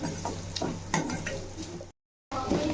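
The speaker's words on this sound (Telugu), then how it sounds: "కొబ్బరి తురుము కూడా వేసుకుని పచ్చివాసన పోయే వరకు వేసుకోవాలి" Grated coconut fries and is stirred in a pan, making a close, dense sizzle with scraping strokes, broken by a short silent gap before the stirring resumes.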